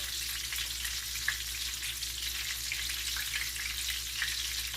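Steady sizzle of chicken pieces frying in a pan, a continuous close crackle with a couple of small clicks as they are turned over, no voices.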